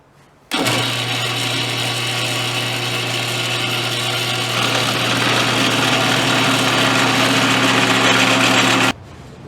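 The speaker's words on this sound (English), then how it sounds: "I'm ready to drill the hole for my dowel that goes into the neck." A power drill bores a dowel hole into a wooden banjo neck, one steady, loud, close whine with a strong low hum, running unbroken for about eight seconds and slightly rising partway through, then stopping abruptly.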